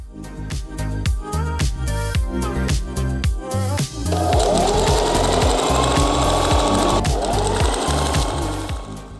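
A sewing machine stitches a folded fabric hem for a patio upholstery piece, first in short rhythmic bursts, then in a longer continuous run of rapid needle strokes close by.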